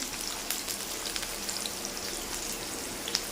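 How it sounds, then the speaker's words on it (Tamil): Small onions sautéing in a pan, a faint, even crackling sizzle with tiny pops scattered throughout, close by and quiet, with no speech. "நம்ம வெட்டி வச்சுருக்கோம்ல சின்ன வெங்காயம், அதை போட்டு வதக்கிக்கலாம்"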